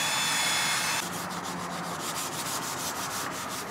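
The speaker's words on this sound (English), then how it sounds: "She's sanding the finished side of those pieces, which are the framing for the bump out." Wood framing pieces for a van bump-out in a Ford Transit build are sanded by hand with steady, close rubbing strokes in a quick even rhythm. No one speaks.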